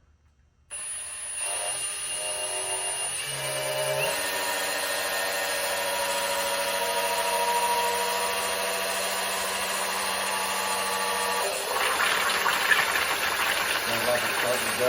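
A 1972 GMC Jimmy engine cranks and catches, settling into a steady running drone with a high whine, then roughening near the end.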